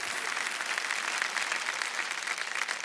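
Studio audience applause on the Kaun Banega Crorepati game show set, a dense steady wash of many hands clapping at even loudness throughout, with no voices over it.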